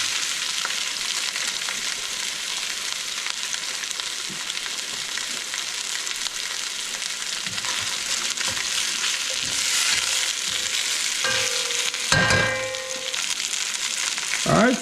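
Oxtail sears in a very hot pot for a Cuban rabo encendido, giving a steady, loud, dense sizzle and crackle throughout, with a brief clank of a utensil or the pot near the end.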